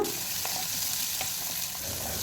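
Dried red chillies and onion pieces fry in a pan for a village-style spicy dal curry. The sizzle is steady and close, with faint stirring scrapes and no talking.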